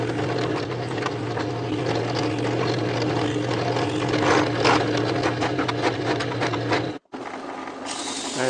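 A power drill bores screw holes through a clamped wooden workpiece, whirring steadily with a rough, buzzing grind up close, then cutting off abruptly before a short quieter tail.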